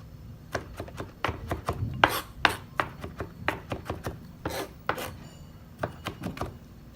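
Repeated sharp chopping and crushing strikes of a knife crushing garlic on a board, irregular bursts of quick taps, close and clear with no voices.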